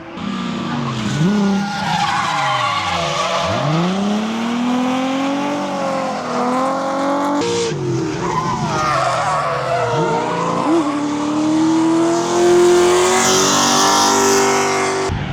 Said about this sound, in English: time for some track shots, because the cars are coming right behind the camera.